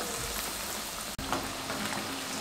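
Potato triangle nuggets frying in hot oil, a steady close crackling sizzle that runs throughout with a brief dropout midway.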